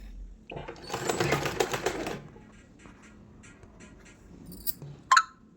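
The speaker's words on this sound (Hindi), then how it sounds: "पक्का करने के बाद यहाँ पे इसमें सिलाई लगानी है" A sewing machine stitches a blouse lining in one short, rapid run of about a second, fairly close, then quiet handling noises and a small click follow.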